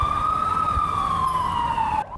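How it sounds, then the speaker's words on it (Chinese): A police car siren wails loudly and continuously at a street crime scene, with a fire engine siren alongside and traffic rumbling beneath, then cuts off abruptly near the end. "警察车、消防车、消防线赶到现场"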